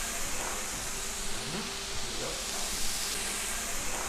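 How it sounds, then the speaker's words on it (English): Stuffed burger sliders sear on a hot pan over medium-high heat, giving a steady, loud broadband hiss with no talk over it. "we're gonna take our stuffed little sliders and we're gonna go right onto a hot pan here, medium-high heat, and we're gonna sear these burgers just like so"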